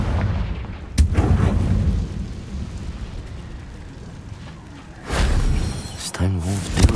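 Confringo fire spell blasts in the video game Hogwarts Legacy, a loud rumbling burst at the start and another near the end over a roaring combat din, with a character's voice shouting.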